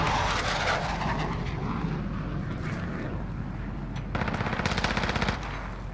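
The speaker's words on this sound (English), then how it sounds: "Go ahead and put my VTOL jet up literally right middle map." A VTOL jet and rapid automatic gunfire in a Call of Duty Modern Warfare match, with a continuous jet engine roar throughout and bursts of machine-gun fire, densest near the end.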